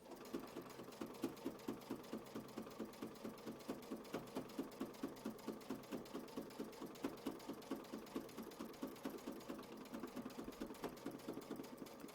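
Sewing machine stitching a quilt block, a quiet, fast, even mechanical chatter running steadily without pause at close range.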